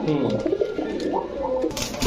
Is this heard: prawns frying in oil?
no